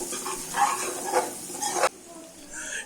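Onions frying in a pan as turmeric and salt are stirred in, a close sizzle with scraping stirring strokes that stops abruptly near the end.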